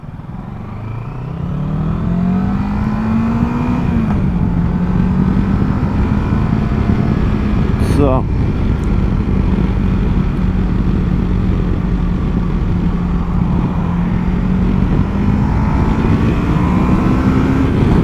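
A 2022 Kawasaki Versys 650 motorcycle engine and exhaust runs close by at a steady, fairly quiet drone, its pitch gently rising and falling through the clip, with one brief spoken word near the start.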